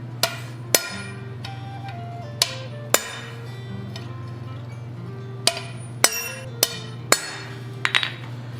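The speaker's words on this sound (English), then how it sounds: "Now I'm going to do a little bit more chisel work on there." A hammer striking a chisel while detailing a forged owl pendant on the anvil, sharp ringing metallic taps at irregular spacing with a small cluster near the end, over a steady low hum.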